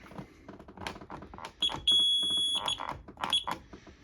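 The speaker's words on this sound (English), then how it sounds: "This siren's really quiet too." An electronic alarm gives piercing high beeps, one long sustained tone among shorter chirps, mixed with clattering and handling noises nearby.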